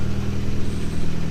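Fiat 500 Abarth turbo engine running on a cold start, a steady close, loud mid-pitched rumble with no voices over it.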